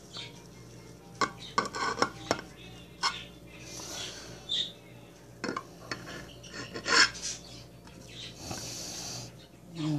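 Knife cutting a hot Dominican arepa on a plate, with scattered close scrapes and light clinks of cutlery against dishware, separated by quiet pauses.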